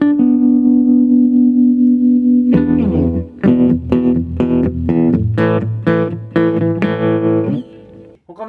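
An electric guitar runs through a BOSS TR-2 tremolo pedal with added distortion, first a sustained held note, then a loud, overdriven chordal phrase pulsing in choppy, rhythmic bursts.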